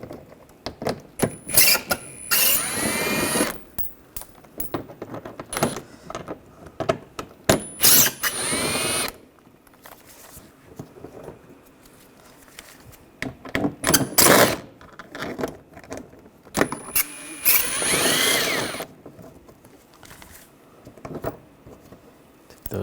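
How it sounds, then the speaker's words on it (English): Power drill fitted with an 8mm socket backing out headlight and bumper screws on a 2013-2016 Dodge Dart, heard as several short, close whirring bursts separated by quiet pauses, with no talking. "On the sides here, there's 3 screws. Take those out. Use an 8mm socket."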